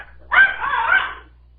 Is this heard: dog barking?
yes